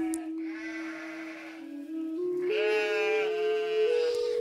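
Sheep bleat in a pasture on a mountain top, a close series of wavering, drawn-out cries from one or more animals, rising in pitch and intensity toward the end.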